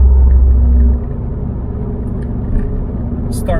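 A Subaru STI with an EJ25 engine pulls in fourth gear, exhaust through the muffler only with the cutout closed. It gives a loud, steady low drone that eases slightly after the first second and holds on.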